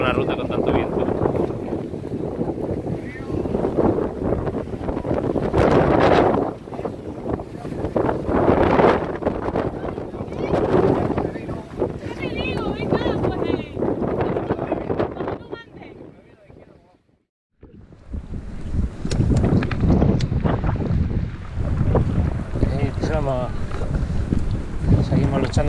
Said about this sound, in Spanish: Yo no recuerdo una ruta con tanto viento.